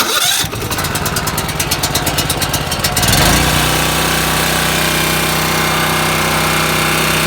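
A Champion dual fuel generator being started with the choke on: a few seconds of rapid, loud cranking chatter, then the engine catches and settles into a steady, close, humming run, with no talking.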